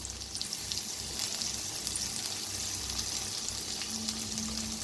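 Onion with crushed ginger, garlic and green chilli paste frying in a pan, a constant close sizzle with soft stirring knocks and crackles, no voices.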